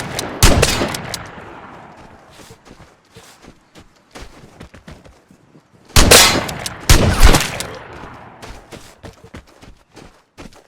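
Bursts of gunfire in the video game Vigor, including a La Chiave 12 shotgun, two loud volleys of rapid shots separated by scattered quieter pops and clanks.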